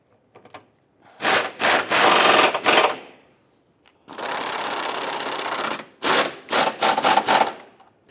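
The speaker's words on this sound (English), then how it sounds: "Let's go ahead and tighten those down." Control arm bolts on a 2011-2023 Dodge Charger being tightened with a power tool, in loud close bursts of rapid rattling, several short, one long, then a quick string of short ones.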